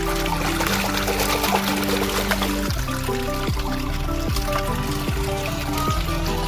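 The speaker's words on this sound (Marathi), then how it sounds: "तर बघा हे पाणी आता भरतंय" Water pours steadily into a container being filled, a continuous splashing rush with rising resonant tones as the level climbs, loud and close with no talk.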